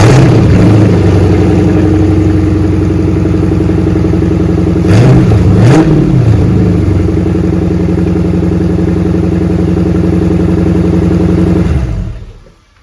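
A Hemi V8 car engine, fitted with a QuickRun wiring harness, runs loud and close at a steady, rumbling idle with a brief rise in revs midway, then cuts off abruptly at the end.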